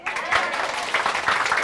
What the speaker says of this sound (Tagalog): Ako kasi, pag maganda yung natutunan ko, pumapalakpak ako.